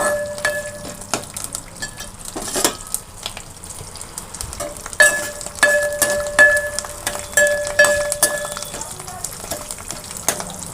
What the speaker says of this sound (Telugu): ఇప్పుడు ఈ పోపు వేసేసుకుందాం పోపు వేసేస్తున్నా